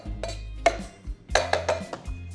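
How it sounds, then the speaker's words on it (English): A wooden spoon presses and muddles orange slices in a glass, giving several close, dull knocks and squishy clunks in an irregular rhythm with brief pauses, no voices. "I'm using the bottom of a wooden spoon instead. So you're just pressing down on the orange to break it up."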